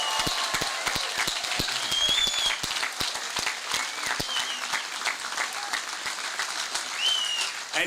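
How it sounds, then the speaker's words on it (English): A crowd at an outdoor welcome for a visiting ship's crew at Yorktown applauds steadily, with sustained clapping from many hands and a few faint whistles, moderately distant. "Let's hear it for the crew that came over here."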